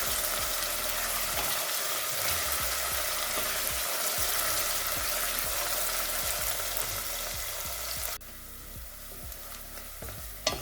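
Onion frying in a pan for Ethiopian cauliflower stew, a dense close sizzle with small stirring scrapes, cutting off abruptly near the end to a quieter crackle.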